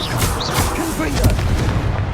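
Repeated Confringo spell blasts in the Hogwarts Legacy video game crack and boom in quick succession, loud and close, with gunfire-like bursts over a rumbling battle din and some voice sounds.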